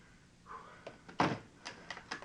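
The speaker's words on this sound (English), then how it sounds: "I knocked over my water bottle." A plastic water bottle with its cap on is knocked over, giving a single dull thunk followed by a few light clatters as it settles, quiet and close in a home workout space.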